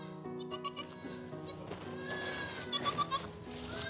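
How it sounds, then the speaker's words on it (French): A farm goat in labour gives strained, drawn-out bleats, close and fairly loud, with several short cries bunched near the end over a steady background. "Une des chèvres du troupeau est en train de mettre bas."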